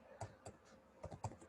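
Typing on a computer keyboard, a few quick, light key clicks in two short bursts, close and faint in a quiet room.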